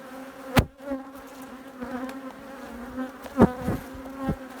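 Honey bees buzz steadily around a log hive just after it has been smoked, a close, continuous drone with a few sharp thumps and knocks breaking through.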